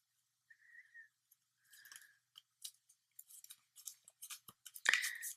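Crisp paper creases and rustles as a square sheet is folded for an origami motorcycle, short soft crinkles and a sharper final crunch close by in a quiet room.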